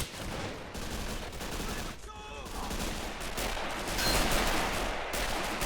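Sustained gunfire in the Men of War: Assault Squad video game, with a tank's machine gun firing among a dense battle soundscape that runs continuously and fairly loud throughout.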